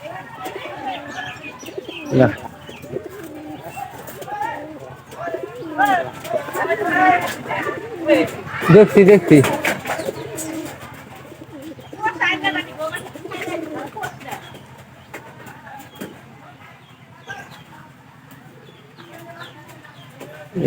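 Pigeons kept confined at home coo and murmur in soft repeated bursts, close by, with a person talking over and between the calls.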